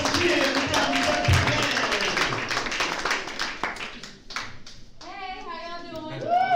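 Open mic audience clapping and cheering as a performer takes the stage, a burst of applause that fades out before a voice starts talking near the mic.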